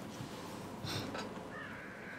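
Crows cawing inside the horror video game The Evil Within, a few harsh calls over a steady dark ambient bed, moderately close and with no one talking.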